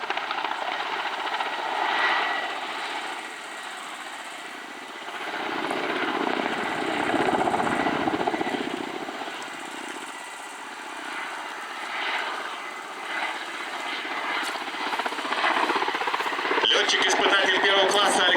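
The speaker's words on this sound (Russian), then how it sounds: "первого класса Александр Чередниченко, вертолет К-52" A Ka-52 attack helicopter flies at the MAKS-2021 airshow, its engine and rotor drone carrying steadily at a moderate distance and swelling slightly as it passes, with a commentator speaking over it.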